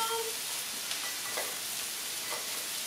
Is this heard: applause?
no